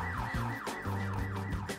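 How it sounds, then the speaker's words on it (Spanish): A car alarm blares in GTA 5 during a dealership robbery, its looping rising-and-falling electronic whoop repeating steadily and loudly over low engine and street noise, with no talk. "ha sonado la alarma y todo"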